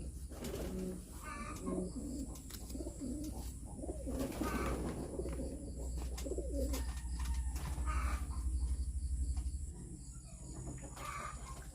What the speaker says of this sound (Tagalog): So, ito na mga kalapatis.